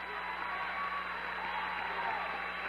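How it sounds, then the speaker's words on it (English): Crowd applauding steadily as a girls' high school basketball player heads to the Colonels bench late in a 1993 Mitchell vs Huron game, a continuous wash of clapping throughout, with faint chatter beneath. "the crowd gives her a nice round of applause as she heads over to the Colonel bench"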